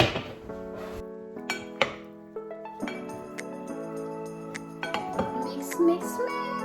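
Metal utensils clink and scrape against a bowl while chicken macaroni salad is mixed, with irregular ringing taps and knocks over a few seconds.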